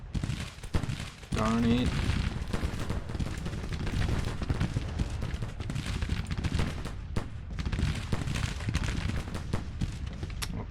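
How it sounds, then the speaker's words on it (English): Musket volleys and artillery booms from a Civil War battle at Washington in the strategy game Grand Tactician: sustained rolling gunfire with sharp cannon thumps throughout, loud and busy, with a short exclamation spoken over it and a brief rising tone early on. "Come on, fire the guns."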